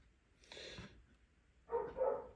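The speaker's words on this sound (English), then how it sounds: "Dogs are barking." Two short bursts of dog barking at a distance, separated by a brief pause, faint over quiet background.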